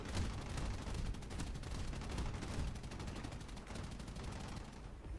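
Rapid fighter plane gunfire in a flight combat video game, a dense rattling stream of shots held at a faint, steady level with no talk over it.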